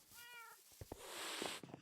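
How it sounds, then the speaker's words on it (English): Cats meowing in Minecraft, a clear meow at the start followed by game clicks and a burst of bright noise, fairly faint overall. "Where the cats are."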